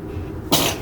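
A single short, sharp burst like a sneeze erupts near the end, close and fairly loud, after a moment of quiet.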